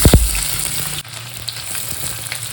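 Chopped onion dropped into hot oil for a dal, with a couple of loud thuds at the start followed by a strong, steady close-up sizzle, and no talk.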